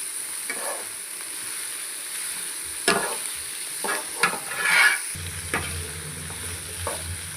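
Chopped big onions sautéing in a pan, a steady close sizzle punctuated by several spatula scrapes and stirs, with the frying growing fuller toward the end; no one speaks.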